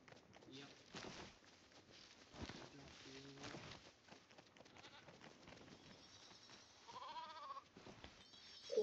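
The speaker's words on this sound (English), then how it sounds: "Can you shear these sheep?" Sheep in the video game Lego Fortnite bleat in short, faint calls amid game footsteps and effects, with people talking over them.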